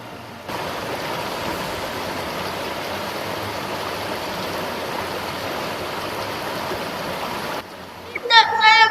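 River water of the Mansur river in a school stage play about the Majapahit kingdom, a steady rushing flow held at even level for several seconds before it cuts off, followed by a short spoken voice.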